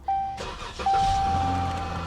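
A 2022 Dodge Charger engine cranks and fires up, a sharp starter burst settling into a steady, loud idle close by, with a warning chime ringing through it and no talk.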